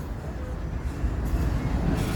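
The Serengeti Express ride train at Busch Gardens Tampa rolling along its rails, a steady low rumble and rattle of the cars heard from on board, moderately loud and continuous.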